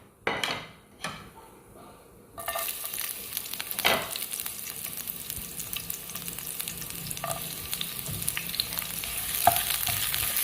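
Finely chopped onions sautéing in oil in a pan while chicken pasta qorma is prepared, a steady close sizzle building after a quiet start, with occasional stirring and utensil scrapes against the pan.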